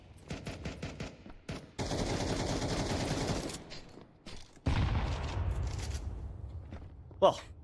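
Pistol fire during a professional Counter-Strike match, heard as sharp bursts and rapid popping shots in clusters. A commentator talks over the gunfire, and there is a loud crack near the end.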